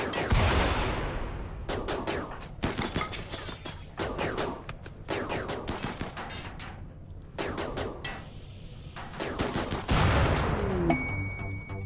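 Gunfire in the RimWorld colony game during a fight with deserters, with rapid bursts and volleys of shots that come in waves, some heavy impacts, and a brief high whine near the end.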